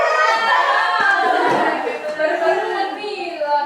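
A group of children claps in a counted rhythm for a classroom concentration clap, with a teacher's voice and kids' chatter over the hand claps.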